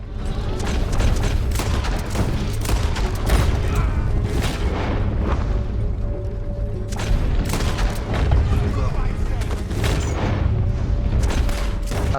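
Loud, rapid bursts of gunfire and booming blasts in Red Dead Redemption 2 repeat almost continuously, dense and close, with no pauses for long.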